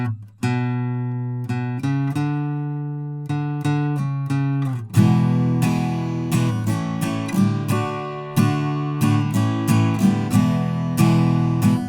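An electric guitar plays a chord intro at a slowed tempo: repeated strummed chords in a steady rhythm, close and clear, with no talking.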